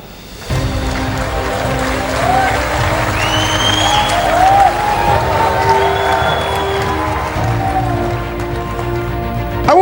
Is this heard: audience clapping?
yes